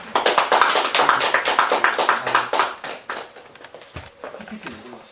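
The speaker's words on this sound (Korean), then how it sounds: "박수로 모시도록 하겠습니다" A burst of applause from a book talk show audience, steady clapping for about three seconds before it thins out and fades.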